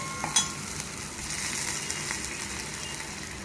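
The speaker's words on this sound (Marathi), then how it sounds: "हे जरा तडतडलं की आपण ह्याच्यामध्ये आपली मिरची, टोमॅटो आणि कोथिंबीर सगळं एकदम घालायचं आहे" Chillies, tomato and coriander hit a hot tempering for masoor dal, producing a steady, close sizzle with a sharp crackle near the start and light stirring scrapes, no talking.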